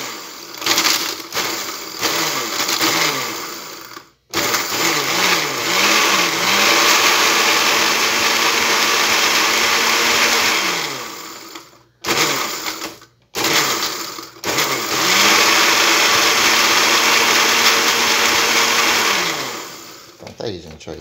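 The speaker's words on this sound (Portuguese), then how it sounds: "Eu só usei o liquidificador para demonstrar" A Walita blender grinds coarse flour in loud sustained bursts, the motor whining and pitch shifting as the load changes, broken by brief pauses between runs.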